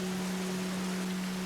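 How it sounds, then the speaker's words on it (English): Heavy rain falls steadily on traditional curved-tile rooftops in feudal Japan in the video game Assassin's Creed Shadows, a dense unbroken hiss layered over a low tonal hum. "Under heavy rain, water will even run off rooftops between the traditional curved tiles"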